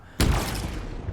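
A video game gun projectile explodes after bouncing off the ground, a sudden loud blast that sets off a dense, crackling rumble and fills the rest of the moment without any talk.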